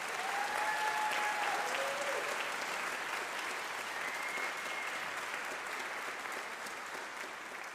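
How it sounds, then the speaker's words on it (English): Steady applause from an auditorium audience after a Tuba Christmas brass ensemble concert, dense and sustained throughout, easing slightly toward the end, with a few faint whistles and cheers mixed in. "Let's have another round of applause for them."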